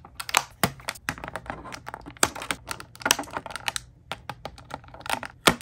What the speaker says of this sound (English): let's go and do the whole snippity snip snip